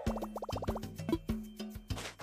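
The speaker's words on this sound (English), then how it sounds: "Wow, I dug up some bells." Animal Crossing video game effects for digging up bells: a quick run of bright, plucky chiming tones over soft repeated plops and thuds in a steady rhythm, close and clear, with no talking.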